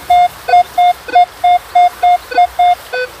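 A Minelab Equinox 800 metal detector gives a loud, repeating electronic target tone, about ten evenly spaced beeps in quick succession, close and clear over faint outdoor background.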